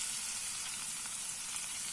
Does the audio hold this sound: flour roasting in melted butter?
yes